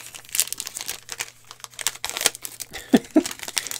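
A foil basketball trading card retail pack, one of the 2019–2022 packs, is torn and unwrapped up close with irregular crinkling, rustling and a couple of sharper crackles.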